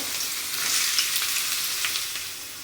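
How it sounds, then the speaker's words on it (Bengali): Mixed vegetables, pointed gourd, potato and carrot, frying in a pan with a bright, steady sizzle close by, stirred a few times, with no voices. "সব সবজি দিয়ে একটা ভাজবো"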